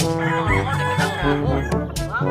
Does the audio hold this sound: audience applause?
no